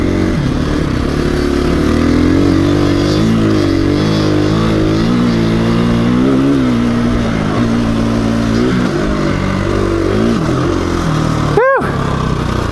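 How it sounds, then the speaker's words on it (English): Dirt bike engine revving hard at speed on a desert group ride near Ridgecrest and Spangler Hills, a loud steady buzzing roar with rising and falling pitch as the rider shifts, close and continuous. "that bike's got some speed when it gets up on the pipe"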